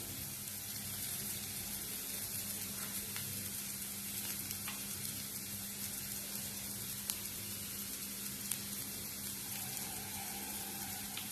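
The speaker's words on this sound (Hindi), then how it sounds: "बहुत ज्यादा अनियन को भूनना नहीं है, उसमें स्मेल बैठ जाए ना।" Onions sautéing in a pan for spinach soup give a steady, close sizzle throughout, with a few faint clicks of stirring and no talking.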